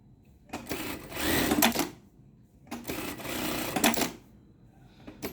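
A Jack industrial sewing machine runs in two rapid, clattering stitching bursts, each ending as its knife cuts the thread, with quiet pauses between.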